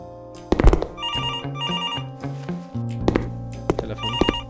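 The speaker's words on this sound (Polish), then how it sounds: "Telefon." A telephone rings in repeated bursts of a trilling electronic ring over a low steady background hum, fairly close and with no talk over it.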